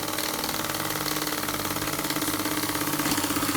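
A Myfordboy wobbler model steam engine runs at a fast, even rhythm, with a continuous chuffing and mechanical whir that stays loud and close throughout.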